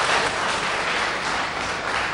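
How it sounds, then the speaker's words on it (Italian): Dense, sustained applause filling an Italian regional council chamber, a steady hiss of many hands clapping at once with no pauses. "Vi chiedo di non applaudire e di stare in silenzio."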